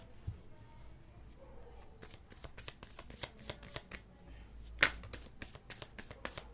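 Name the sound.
tarot cards being shuffled and drawn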